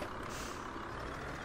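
A TLF 4000 fire truck driving in the Landwirtschafts-Simulator 17 game, set in Tyrol, giving a brief, steady, broadband engine rumble that stays at an even level throughout.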